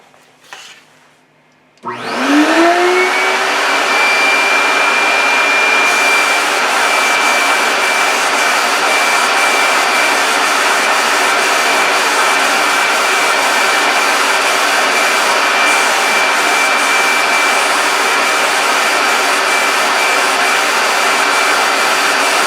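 Compressed-air spray gun laying lacquer by hand onto a wooden piece held still on a lathe, a steady loud hiss that cuts in sharply after a short quiet lead-in and runs on evenly without pause.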